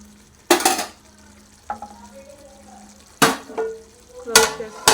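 Coriander chicken is stirred with ghee in a pan on the stove, with bursts of spoon-scraping and clattering against the pan between quieter stretches of soft sizzling.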